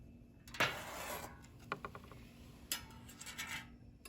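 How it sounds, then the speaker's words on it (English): A sample pan is set into a moisture analyzer machine in a quiet lab, making a sharp metallic clack followed by softer small clicks and scrapes, close but faint over a low steady hum. "I'll first start with placing the pan."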